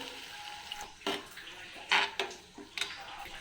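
Water poured in short splashy bursts into a pan of dried fenugreek curry, close and moderately loud, with brief gaps between pours.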